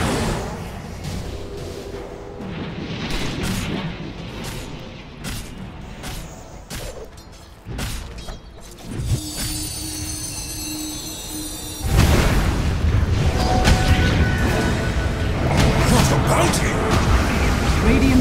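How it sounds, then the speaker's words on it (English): Combat in the video game Dota 2 as a tower comes under attack: a dense, loud mix of impacts, whooshes and crashes with game voices over it, swelling louder partway through. "Dire's bottom tower is under attack."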